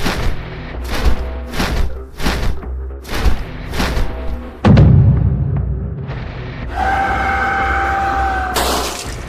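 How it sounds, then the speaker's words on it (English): A series of heavy thuds and blasts pulse rhythmically outside, then a loud boom hits, followed by a sustained electronic hum and whine. "Energy blasts and thudding are heard from outside."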